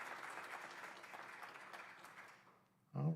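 A morning audience applauds the musicians, steady clapping that gradually fades out, followed by a brief voice starting to speak at the end.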